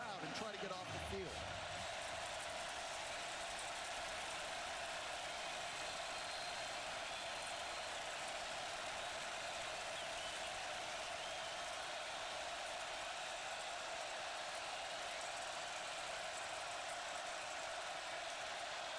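Crowd noise fills a college football stadium during a third-down play between Alabama and Florida State, a dense, constant roar that stays loud and unbroken throughout.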